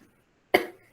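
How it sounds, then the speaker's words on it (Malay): A single sharp cough bursts out once in a quiet lecture hall during a professor's biodiversity lecture, brief and close, fading quickly into silence. "Batuk pula."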